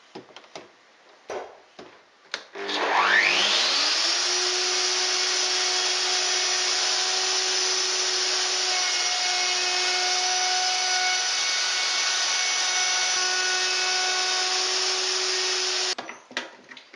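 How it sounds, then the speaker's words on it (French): A wood router fitted with a straight bit and a copy ring spins up to a loud, steady high whine while roughing out a groove in wood, running close for about thirteen seconds before winding down, with no speech. "je monte une fraise droite afin de dégrossir la rainure"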